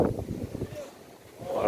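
Strong gusts buffet the microphone outdoors at the Le Mans 24 Hours scrutineering, rumbling in bursts that fade midway and then swell again.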